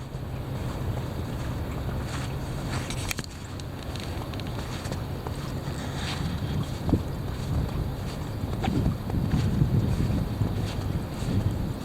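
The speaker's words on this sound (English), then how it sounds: "Here it comes. The heavy wind." Heavy wind roars steadily across the microphone outdoors, apparently from a boat on the water, a constant buffeting rush with gusts swelling near the end and no voices.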